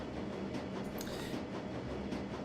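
A train ride in the video game Shadowrun Dragonfall produces a faint, steady rolling rumble with soft rhythmic rattles and no voices.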